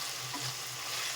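Garlic sizzles in a pan with tomatoes and chillies for a spicy brinjal masala, a steady close frying hiss with no voices.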